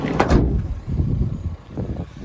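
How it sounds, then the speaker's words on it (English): Side loading door of a Renault Kangoo van being slid, a close rumbling glide with a sharp latch clunk near the start, followed by softer rolling and knocking as it moves. "We do have easy access through the side loading door."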